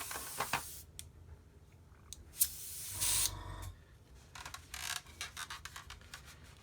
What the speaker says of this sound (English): This is clogging in the airbrush.